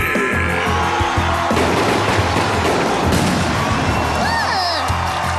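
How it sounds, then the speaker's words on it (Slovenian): Confetti cannons in a cartoon fire with a loud burst of blasts and crashing pops over a busy, dense soundtrack, then a whistling swoop near the end. "Kvalitetno delo s topovi za konfete."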